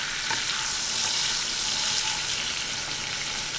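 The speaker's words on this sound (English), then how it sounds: "you're gonna want to stir it around pretty good. Burn all that alcohol off." Alcohol sizzles loudly and steadily in a frying pan while being stirred, a dense close hiss with no talk.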